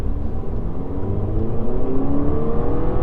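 A 4-cylinder turbocharged Audi TT from the 2008-2014 second generation accelerates, a steady engine drone that climbs in pitch over three seconds with rising revs, close and alone, with no talk.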